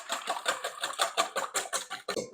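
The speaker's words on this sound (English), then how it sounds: "We're going to whisk that together." A whisk beats vanilla extract into zucchini bread batter in a bowl, making quick, steady, evenly spaced strokes that tap and scrape about six times a second. The sound is close and moderately loud, with no talking.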